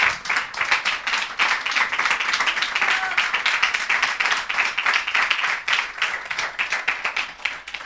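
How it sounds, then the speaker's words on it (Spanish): A church congregation applauds during a sermon, dense and sustained clapping at a lively rhythmic pace that fills the room for several seconds, with voices faintly mixed in. "¿Cuánto aplauden al Señor?"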